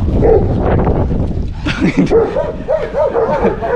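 A large dog barks and yips several times up close, with whimpering tones between the barks over a noisy outdoor background.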